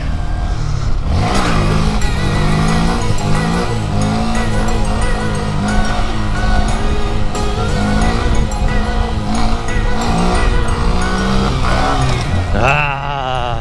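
A motorcycle with a stock exhaust hums steadily and loudly at close range while riding, with a smooth, muted engine drone and occasional shifts in pitch.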